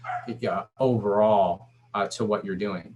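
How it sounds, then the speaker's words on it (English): A pet dog barks and whines in the background, partly masked by a person speaking steadily over it at close range. "sorry if you hear my dog in the background."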